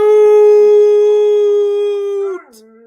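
Dogs howl outdoors at night in one long, loud, sustained howl with a steady pitch that wavers and drops near the end, followed by a quieter lower note. No one speaks.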